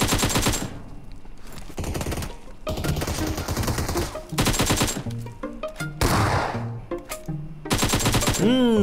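Rapid gunfire bursts from the mobile battle royale game PUBG Mobile, loud and close, with automatic rifle volleys alternating with brief pauses and single shots across the whole stretch.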